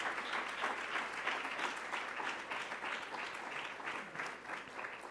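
An audience at a STAR 2016 event applauds Mr. Nicholson, a steady wash of moderate clapping from a full room that carries on for several seconds with no talk over it.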